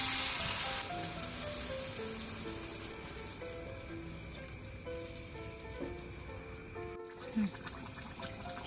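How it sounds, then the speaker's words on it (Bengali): Water is poured into a pan of frying potato ball curry, giving a steady sizzle and trickle at moderate level with soft background music, ending in a brief clatter near the close. "উপর থেকে পানি দিয়ে দেব"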